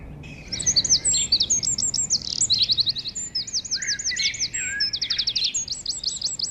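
A small warbler sings repeated bright, trilling phrases, clear and close, over a quiet background.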